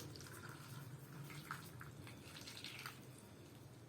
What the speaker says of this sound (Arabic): هنحط المرقه كده